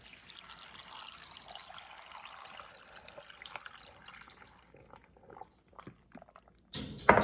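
A soft trickle of water being poured into a blender, steady and faint, then thinning into a few drips before a brief louder clatter at the end.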